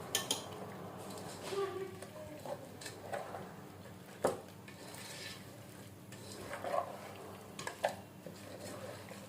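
Fish pieces being mixed by hand in a metal bowl for an Andhra-style mango fish curry, with intermittent clinks and scrapes of utensils against the bowl, soft and close, with quiet gaps between.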